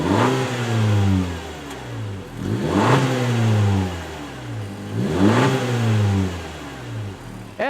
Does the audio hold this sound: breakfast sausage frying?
no